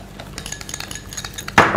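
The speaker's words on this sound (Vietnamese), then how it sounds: "Khuấy đều lên." A spoon stirs sugar and fish sauce in a dish for a jellyfish, shrimp and pork salad, giving soft repeated clinks and scrapes against the bowl, close and clear, ending in a louder burst of clatter.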